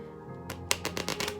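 Tarot card stock being shuffled, giving a run of sharp, crisp snaps and riffles in quick succession, close and fairly loud after a quiet start, with no talking.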